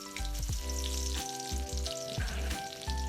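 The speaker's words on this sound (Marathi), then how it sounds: "त्याच्यामध्ये आपण फोडणीला लसूण टाकूयात" Garlic sizzles in hot oil in a heated kadhai, a loud crackling fry with repeated stirring scrapes and clacks of the spoon at an uneven rhythm, close by, with no one speaking.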